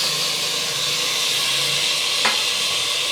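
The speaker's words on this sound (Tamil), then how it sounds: "தக்காளி நல்லா மசிஞ்சு வர அளவுக்கு இதை வதக்கி விட்டுக்கலாம்" Tomatoes cooking down with browned onions in a pan for mutton biryani, a steady close sizzle and hiss running throughout with one brief scrape of stirring near the end.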